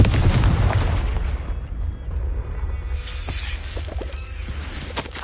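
A loud, near fiery blast from the Confringo spell in Hogwarts Legacy hits with a deep boom that rumbles and fades over several seconds.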